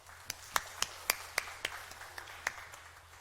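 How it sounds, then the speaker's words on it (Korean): Scattered handclaps from a church congregation during a Sunday worship service, about ten separate, fairly soft claps spaced irregularly over a quiet room background. "우리 목사님께 큰 박수로 감사의 표시하겠습니다."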